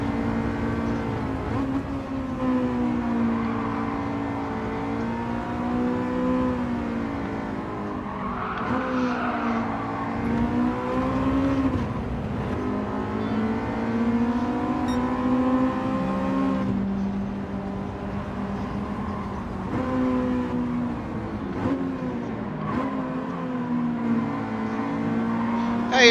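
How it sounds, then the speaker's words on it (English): Race car engine in Gran Turismo 7 revving high and continuous, pitch rising and falling through gear changes with tire squeal, loud and close for the whole stretch. "Really got to rev these things out"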